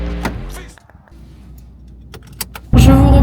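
Inside a car on the way home from the gym, with a door or power window working, small handling clatter, then a loud steady engine and road rumble filling the cabin at the end; no talking.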